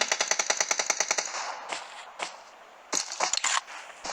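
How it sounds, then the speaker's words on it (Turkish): Rapid automatic gunfire in a close firefight in PUBG Mobile on the Sanhok map, a loud fast burst of shots followed by scattered single and short-burst shots with no talking. "Mehmet burada çok sıcak çatışma var."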